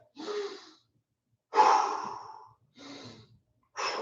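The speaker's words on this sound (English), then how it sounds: "Couple of deep breaths." Four deep, heavy breaths drawn in and pushed out between sets of a leg-day home workout, close and breathy, each lasting about half a second to a second, with short pauses between them.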